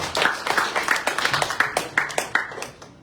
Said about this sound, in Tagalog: Isa pong malakas sa palakpak sa ating Diyos.